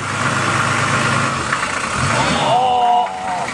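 A 2.5-ton 4WD troop carrier's engine runs steadily and loudly up close as it reverses over a phone in the outback, with a voice briefly heard over the rumble.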